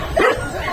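A single short dog bark rings out over steady street background noise, fairly close and brief.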